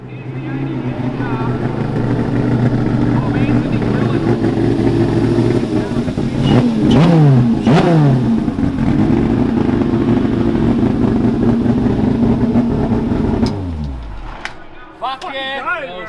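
A speedway race car engine roars loudly and steadily, with sharp rev spikes in the middle, before cutting off near the end while people talk.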